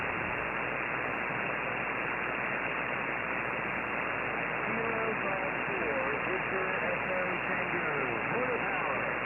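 Amateur radio contact during Winter Field Day, a weak station signal buried in steady loud static and band-limited hiss, with faint tonal voice traces emerging later under the noise.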